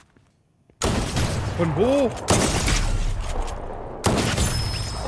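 Gunfire in the video game Fortnite, loud bursts of rapid shots that start abruptly and continue in heavy volleys, with a brief pause before another burst, while someone speaks German briefly over them.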